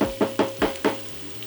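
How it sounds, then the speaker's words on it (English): Garlic, ginger and cilantro being stirred as they fry in a pot, giving about five evenly spaced scraping, sizzling strokes close up, with a steady low hum underneath. "Give it a stir. Have the garlic, ginger, cilantro start releasing their flavors."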